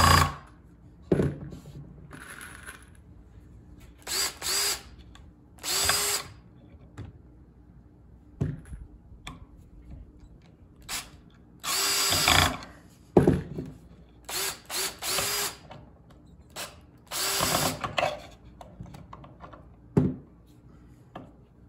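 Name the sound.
power drill driving screws into dog ramp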